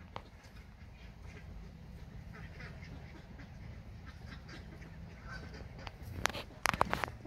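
Ducks quacking at a lake, some flying in and running in as a group, with a steady outdoor bed of water and ambience and a burst of quacks near the end.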